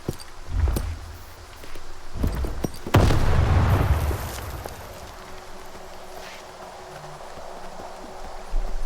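A frag grenade bursts in the shooter game STALKER 2: Heart of Chornobyl, a sharp boom swelling into a rumbling blast that tails off over a few seconds, with thuds and footsteps just before.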